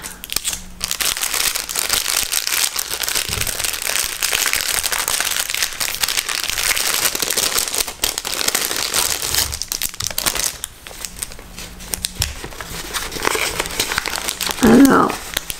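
Paper crinkling and crumpling as a mail envelope is torn open by hand, a close, steady rustle that runs nearly the whole time, with a brief louder handling sound near the end and a voice speaking faintly underneath.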